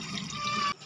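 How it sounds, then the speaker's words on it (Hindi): Drinking water running from a household tap into a container, a steady close splashing flow that stops abruptly near the end. "पीने वाला पानी भरने आई है।"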